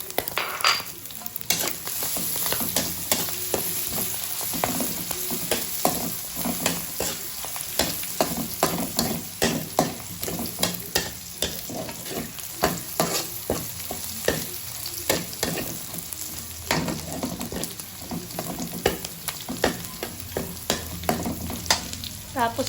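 Ground beef fries and is stirred in a pan, with a steady sizzle broken by frequent scraping strokes of the spatula throughout.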